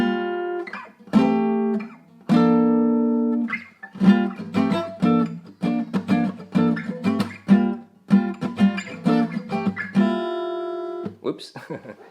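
Acoustic guitar strumming a chord for a song, with the sixth string muted; close, bright strums ring out repeatedly, first spaced and sustained, then in a quicker rhythmic pattern.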